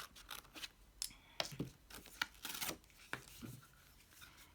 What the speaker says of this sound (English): I'll chop this off with my scissors.